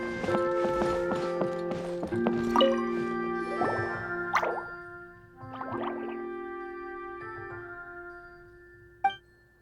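Water dripping in a Genshin Impact game scene: a series of bright, ringing droplet plinks with resonant tails, clustered early then spaced out, ending in one sharp drop, fairly close and clear.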